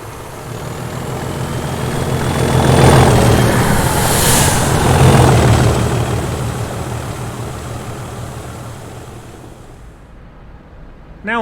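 Class 37 diesel locomotives 37683 and 37428 working a railhead treatment train at night, a loud throbbing engine roar that swells as they pass close by, then fades into the distance.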